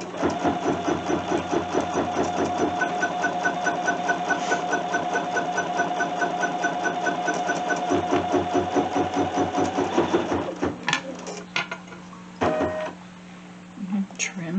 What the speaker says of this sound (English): And once again, the machine's gonna tack this down.